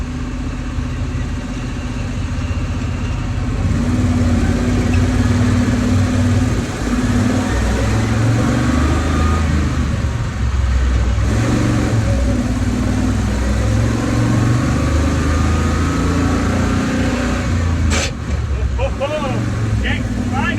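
A 1967 Chevrolet C30 truck engine drones loudly and continuously while driving in gear on blacktop, with a rough mid-range rumble that rises and falls slightly with throttle, and voices faintly mixed beneath.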